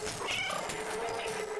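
A cat meows several times in the video game Stray, a close, clear, continuous run of plaintive calls over a steady game backdrop.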